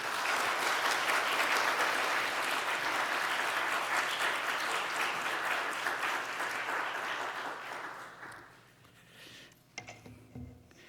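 A church congregation applauds loudly and steadily to welcome the pastor, a dense sustained clapping that tapers off over the final few seconds into quiet room sound.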